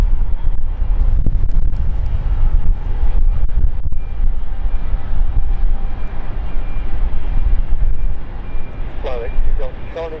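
Steady broadband rumble of a jet airliner taxiing away from its stand at London City Airport, a continuous low roar with wind buffeting the microphone and faint talk near the end.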